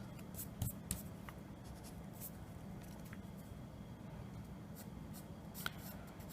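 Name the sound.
pencil drawing lines on paper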